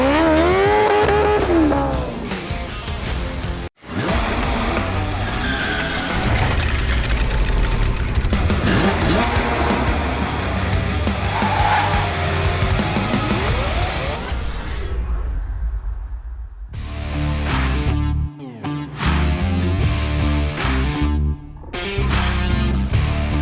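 A Honda S660 Turbo spins its wheels with loud, sustained engine revving and tire squeal close by, then breaks into several sharp bursts of throttle separated by short pauses.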